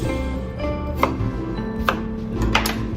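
A knife chopping food on a cutting board while making garlic shrimp, with a few distinct, crisp, close chops spaced unevenly over a low background hum.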